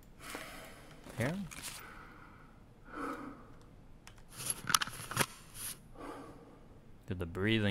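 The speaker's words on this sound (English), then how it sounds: "Dude, the breathing's annoying" A character breathes heavily in Escape From Tarkov, with faint, repeated gasps and sighs between quiet stretches, alongside a few sharp clicks and bursts of in-game sound.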